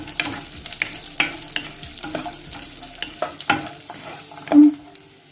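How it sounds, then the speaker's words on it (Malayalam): Cashew nuts and raisins sautéing in a pan for a Malabar egg snack, a soft steady sizzle with repeated scraping stirs of a spoon against the pan, close and alone without talk. "കാഷ്യൂനട്ടും ചേർത്ത് ഒന്ന് മൂപ്പിച്ചെടുത്ത ശേഷം ഇതിലേക്ക് ഇനി കിസ്മിസ് ചേർത്ത് കൊടുക്കാം."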